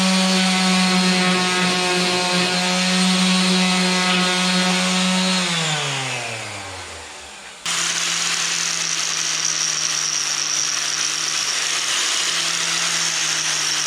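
A power cutting tool whines loudly while cutting out a rusty metal panel on a Land Rover Discovery 1, its pitch sinking as it bogs down and nearly stalls, then snapping back to a steady high-speed whine.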